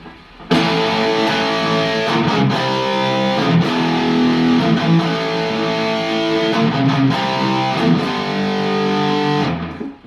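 A clean, punchy electric guitar plays chunky chords and short riffs steadily for about ten seconds, with no talking.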